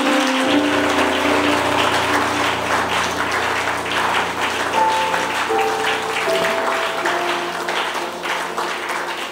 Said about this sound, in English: Are you clapping or are you not clapping?